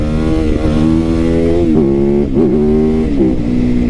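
A 2025 Yamaha R9 motorcycle engine drones loud and close while wheelies are ridden, its pitch rising and dipping in several revving swells throughout with no talking.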